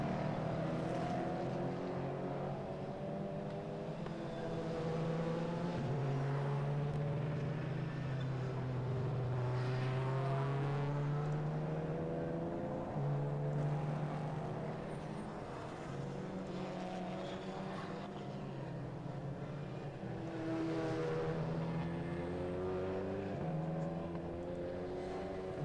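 Praga race cars lapping the Oulton Park circuit during an endurance race, several engines droning and shifting pitch as they pass, continuous and fairly distant with no talk over them.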